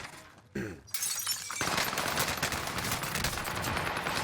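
Rapid gunfire in a Warzone gunfight: a short crack, then sustained bursts of automatic fire rattling continuously for several seconds, loud and close with no talking.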